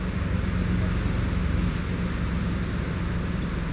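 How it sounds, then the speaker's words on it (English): Steady, broadband rushing wind buffets the microphone throughout, a constant roar with no distinct events or voices. "today's like ridiculously windy out"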